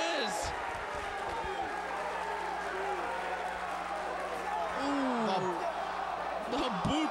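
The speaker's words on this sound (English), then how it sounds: "Listen to that crowd. They want to see it." A wrestling crowd in an arena roars and murmurs as a steady, distant wall of noise under a commentator's excited voice throughout.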